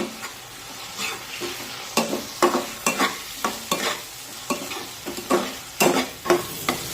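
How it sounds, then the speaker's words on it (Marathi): Chopped tomato sautéing with onion in a pan, a soft sizzle under a regular rhythm of spatula scrapes and knocks, roughly two strokes per second, close by. "हा टोमॅटो सुद्धा छानपैकी मऊ होईपर्यंत शिजून घेऊया"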